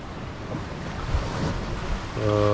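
Ocean waves wash around a sailboat on an Atlantic crossing, a steady broadband surge with wind noise on the microphone, growing louder toward the end, where a low tonal hum joins in.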